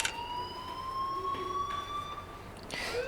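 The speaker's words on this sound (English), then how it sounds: "do you hear that fire alarm? That means you should be outside." A fire alarm wails in the Life Is Strange video game, a steady, loud, sustained electronic siren tone with slowly sweeping pitch that carries through the whole stretch with no talking.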